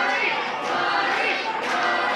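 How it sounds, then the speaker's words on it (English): Wrestling crowd at a pre-show match cheering for Sweet Money Montgomery, a dense, continuous roar of voices with rising swells, loud and close throughout the brief moment. "Crowd beginning behind Sweet Money Montgomery here."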